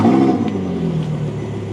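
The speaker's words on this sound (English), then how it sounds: "Now let's start the car." An Audi R8 V10 engine starts up and settles into a revving, whirring idle, its loud low rumble close by and steady with no voices over it.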